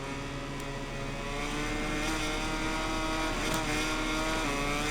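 A MotoGP racing video game motorcycle engine wails continuously at high revs through a wheel-spinning exit, dense and steady with no voices.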